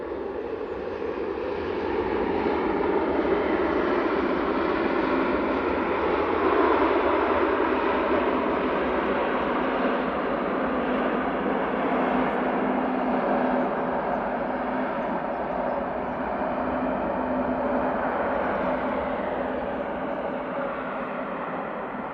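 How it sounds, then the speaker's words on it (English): An airliner landing at Manchester Airport with heavy reverse thrust: a loud, sustained jet roar held at a fairly even level for the whole stretch, with no talking. "Damn, that went heavy on the reversers. That was loud."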